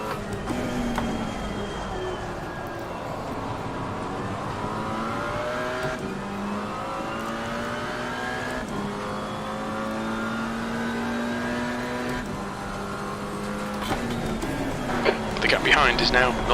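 A GT4 race car engine in a racing video game, driven on a wet Nürburgring, revs and climbs steadily through repeated gear changes, its rising whine running under a driver talking throughout.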